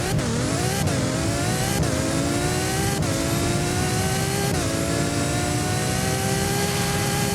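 DiTomaso P900 supercar in the Driving Empire racing game accelerating hard through several gear shifts, engine rising in pitch then dropping at each shift, loud, steady and close, with no talking.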